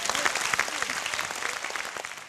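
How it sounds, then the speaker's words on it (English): Conference audience in Geneva clapping after a speech, a dense steady applause from many hands that fades slightly toward the end, heard alone without talk. "C'est un honneur pour vous de m'applaudir"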